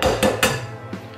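Eggs cracked against a bowl edge into milk for scone batter: two sharp knocks close together, then a softer tap, all near and moderately loud with no talking.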